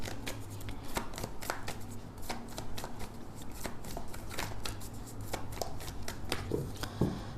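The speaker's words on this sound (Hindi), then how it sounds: "Will take 5 cards from major arcana." Tarot cards shuffled by hand, a soft continuous riffling and flicking close up, with light taps as cards are drawn near the end.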